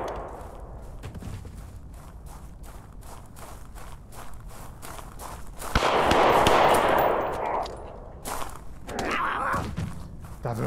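Gunshots crack out in the VR shooter Blood Trail: a steady run of rapid, evenly spaced shots, then a louder, noisier burst midway before sharp shots resume, with some faint talk beneath.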